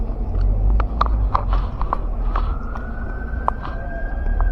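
An ambulance siren wails as it passes along a city street, a loud rising-and-falling tone over steady traffic rumble, with scattered short clicks and knocks in the foreground.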